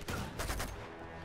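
Shotgun gunfire in Uncharted 2: a couple of close, heavy blasts in quick succession, then a dull fading tail, fairly quiet overall.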